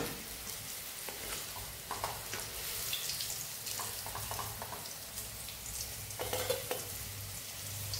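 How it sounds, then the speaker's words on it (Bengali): Bitter gourd frying in a pan until reddened, a continuous dense sizzle with intermittent louder crackling bursts and soft stirring scrapes, close and fairly quiet with no talking. "এবার এটাকে লাল করে ভেজে নিয়েছি"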